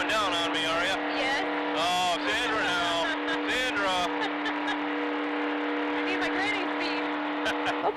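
Race car number 43 roaring around the 31-degree banked turns of a Coke Zero 400 speedway, a loud steady engine drone with rising and falling pitch sweeps, while people talk excitedly over it throughout.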